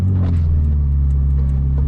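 A Ferrari 488 Pista turbo engine gives a loud, steady low rumble up close, a continuous deep drone with no talking over it.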